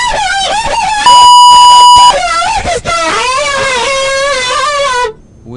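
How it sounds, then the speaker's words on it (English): A high-pitched voice screams and wails loudly into a headset microphone in Halo 3 game chat, shrill and strained with a steady electronic tone cutting in partway, running nearly continuously for several seconds. "Scream into his mic."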